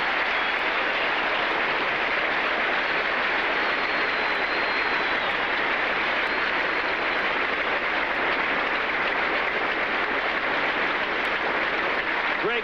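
A cricket crowd applauds steadily as Greg Chappell reaches his Test century against New Zealand in the third Test of 1981-82, the dense, sustained clapping and cheering filling the ground without pause for over twelve seconds.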